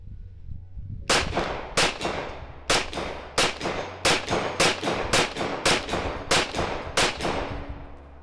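A Glock 45 pistol fires ten rounds in a quick string, each shot a sharp loud crack followed by brief ringing decay, spaced under a second apart with a short gap midway.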